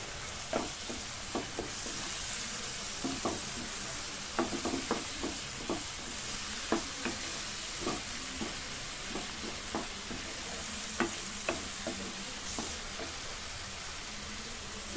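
Oil with turmeric fries gently in a pan, a soft steady sizzle broken by frequent small pops and spatters, quiet and close with no talking.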